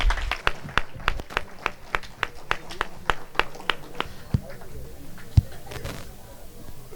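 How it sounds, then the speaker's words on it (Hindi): An audience at a Hindi poetry gathering (kavi sammelan) claps for a poet in sharp, separate, rhythmic claps that keep an even beat and thin out toward the end. "एक बार जोरदार तालियां आप नरेंद्र गुप्ता के लिए बजाइए"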